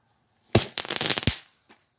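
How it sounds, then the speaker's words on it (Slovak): A Barakuda firecracker fountain fires off in one sharp burst, then a dense crackling spray for about three-quarters of a second, a second pop, a fading tail and one faint late crack, heard alone with no voices. "to je malo byť petarda, alebo nejaká fontána petarda sa mi zdá niečo s efektom"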